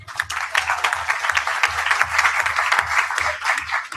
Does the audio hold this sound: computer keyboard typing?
no